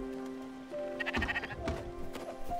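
Sheep in the video game Spiritfarer bleat in short, quiet calls over a low background tone, with several soft overlapping bleats.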